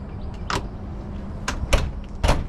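Door on a redesigned Winnebago motorhome being opened and closed, several sharp latch clicks and thumps spaced about a second apart, close and fairly loud over a low background hum.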